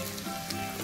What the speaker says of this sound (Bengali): দিয়ে মা দিয়ে দিল বরবটি আর আলু ভাজা হবে